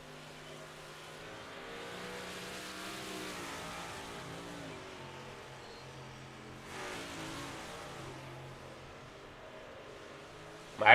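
A race car in a stock-car racing game drives out onto the track, its engine a steady, moderately loud drone that rises and falls through the clip, ending in a brief louder burst.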